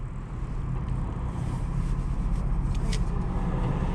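A BMW 4 Series with the B58 engine driving through New York City streets, a steady broadband road and engine rumble with wind noise holding level throughout, close and continuous, no voices.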